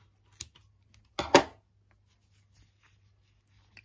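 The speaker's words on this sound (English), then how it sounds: "I will cut this excess yarn" Scissors snip excess yarn on a small crocheted amigurumi keychain: one brief, close crunching cut with a faint click just before it, then near silence over a low hum.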